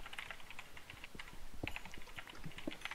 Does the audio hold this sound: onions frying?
no